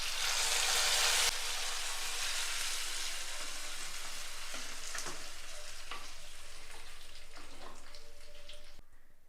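Dried red chillies sizzle loudly as hot tempering oil hits a Kerala banana and drumstick curry, a sharp burst at first that settles into steady crackling frying with light stirring clinks, no one speaking.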